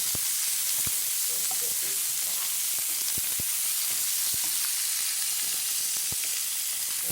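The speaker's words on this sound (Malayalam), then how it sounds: "അരിഞ്ഞ് വെച്ച കോവയ്ക്ക ഇട്ട് കൊടുത്തിട്ട് ഇളക്കി" Chopped ivy gourd fries in a pan with a steady, hissing sizzle, punctuated by sharp clicks and scrapes of stirring, heard close and continuous throughout.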